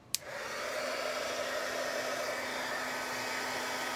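A heat gun blasts a steady, even whoosh of hot air over stamped ink for heat embossing, starting with a click and then running continuously and fairly close, with no talking.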